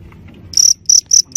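Fighting crickets chirp up close in three loud, shrill trills with short gaps between them, over low background rumble.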